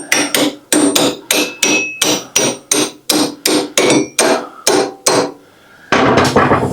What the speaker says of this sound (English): Give me a hammer here.